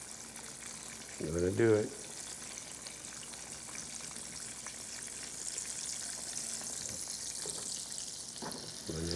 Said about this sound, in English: You're doing nothing but frying bread.